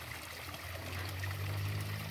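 Faint, steady trickling and splashing of river water while someone bathes outdoors in a Kenyan village, a soft continuous wash of flowing water with no talk.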